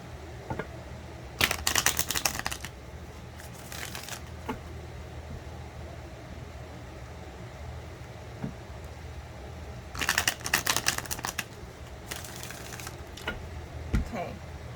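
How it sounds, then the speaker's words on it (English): Two bursts of crisp riffling card shuffles, each a few seconds long, separated by quieter room sound with a few soft taps. "What is wrong with my shuffling today?"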